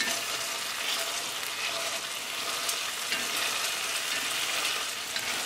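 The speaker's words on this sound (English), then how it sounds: "you can use the potato masher. Just press it like this. So I'm going to mash the tomatoes." Tomatoes in a pan being pressed with a potato masher, a continuous close wet squishing and sizzling under constant stirring, with no one talking.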